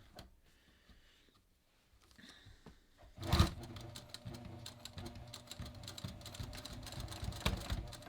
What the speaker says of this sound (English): I'm just going to start stitching just on either side of the original top stitching